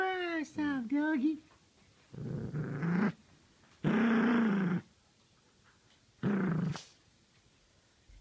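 A dog growls in three low, rumbling bursts of about a second each, close by, with a person talking to it in a playful voice at the start.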